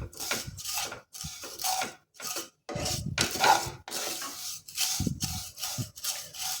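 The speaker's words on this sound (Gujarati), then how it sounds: "તો હવે આપણે એ જ ઘીની અંદર જે ડમરૂ સેવ આપણે અહીંયા 1 વાટકી જેટલી લીધી છે એ ફ્રાય કરી લઈશું।" Damru sev vermicelli is fried in ghee and stirred in a pan while making carrot kheer, producing repeated rhythmic scraping and rubbing strokes with short pauses between them, close up and with no talking.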